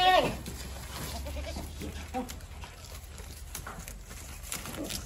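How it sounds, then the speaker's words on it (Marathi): A goat on a goat farm with three goats gives a short, loud bleat right at the start, followed by quieter shuffling and faint background murmurs. "तीनच शेळ्या आहेत"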